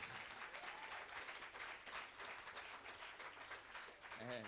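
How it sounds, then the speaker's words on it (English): An audience at a business pitching event claps for a CEO walking down the aisle, a steady, faint wash of applause with some chatter underneath. "Can we please give her a round of applause?"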